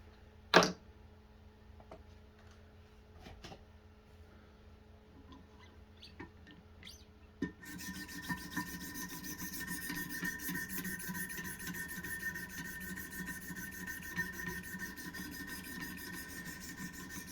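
A Wicked Edge Pro-Pack III sharpener works a knife blade at 600 grit: a few faint clicks and taps first, then a steady fine rasping that runs continuously and close for the rest, without talk.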